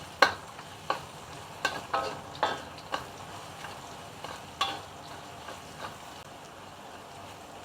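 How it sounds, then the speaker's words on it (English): Garlic and ginger are stir fried in a pan, a soft sizzle under repeated scraping clicks of a spatula against the pan at an irregular pace. "Stir fry until it smells good."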